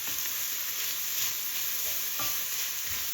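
Black beans and barley seasoned with miso are stirred in a frying pan, a quiet continuous sizzle broken by a few soft scraping strokes of the spoon.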